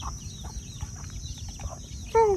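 Chickens cluck and chatter faintly across a quiet rural farm where ducks and chickens are raised, with a steady low background hum and a louder, sharper squawk near the end.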